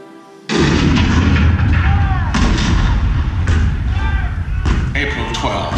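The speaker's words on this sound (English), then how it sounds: "The cannon spoke for war." Cannon fire at Fort Sumter in the Hall of Presidents show, a sudden loud boom followed by repeated heavy blasts and rumbling echoes, with a narrator's voice over them.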